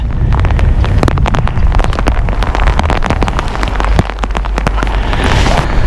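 Loud rain pattering densely on a nearby surface at the foot of a Buddha statue near Dirang, with sharp individual drop hits and gusty wind buffeting the microphone throughout.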